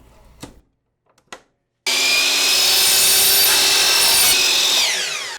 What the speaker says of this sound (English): The crown molding will have 45-degree miters cut on both ends. We do this using a power miter saw.